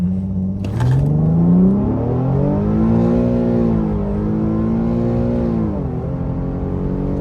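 A tuned Infiniti Q car launching from zero to 60 mph in sport mode, the engine revving up loudly and close with rising pitch through several gear changes.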